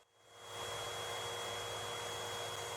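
A vacuum cleaner switches on and ramps up within half a second, then holds a loud, steady broadband whoosh with a low motor hum, heard within the visual novel game Girl in the Attic.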